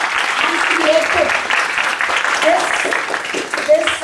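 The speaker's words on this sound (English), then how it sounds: "please give a big round of applause to all the teachers" Audience applause for teachers at a class 10 parent orientation, steady dense clapping filling the room throughout, with voices mixed in.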